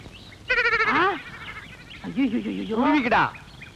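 A goat bleats loudly and close by in two long, wavering calls, set in a Tamil comedy film scene with a herder driving goats away.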